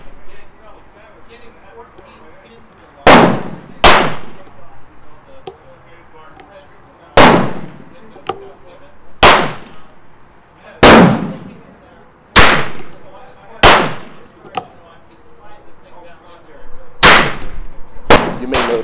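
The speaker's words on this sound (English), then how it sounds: "before testing, you fire a few shots just to get the pistol settled into the grip inserts" Six sharp gunshots from a Ruger Wrangler revolver-style pistol fired outdoors, spaced a couple of seconds apart, each loud and close with a short decaying echo.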